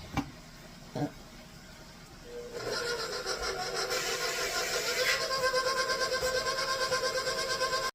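A KitchenAid stand mixer creams cookie dough, starting up after a couple of knocks and settling into a steady, close whirring hum with a rhythmic pulsing churn.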